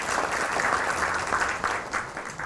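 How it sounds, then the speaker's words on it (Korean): An audience at a fashion forum panel discussion applauds two brand CEOs, a dense, even wash of clapping from many hands throughout with no speech. "큰 박수 부탁드리겠습니다"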